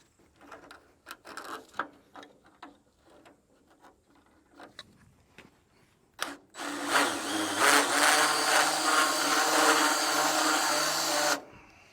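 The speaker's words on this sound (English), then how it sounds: "I'm gonna take a chamfer bit, round that over a little bit, soften that edge." A chamfer bit in a power router rounds over a sharp metal edge on a Hesston hay machine that sat in a barn for 15 years; after scattered handling knocks, a loud steady high-pitched whine runs about five seconds, close up.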